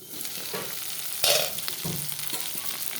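Eggplant pieces fry and sizzle in a hot pan for a spicy pabda fish curry, with a steady crackle of oil, a louder burst when stirred, and occasional scraping of the spatula.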